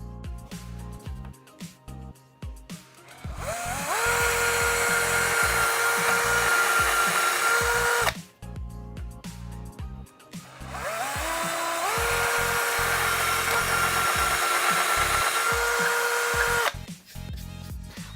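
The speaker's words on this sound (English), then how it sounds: "we're ready to drill the final 2 holes" A power drill whines steadily through two long bursts of drilling holes for fitting Venetian blinds, separated by brief pauses, close and loud.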